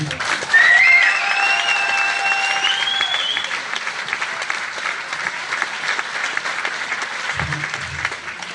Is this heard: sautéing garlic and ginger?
no